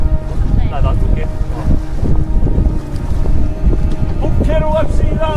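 A sailboat motors under engine against a headwind and opposing current at sea. A low engine rumble mixes with strong wind buffeting and water noise, and voices talk over it.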